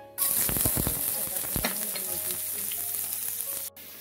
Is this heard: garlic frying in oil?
yes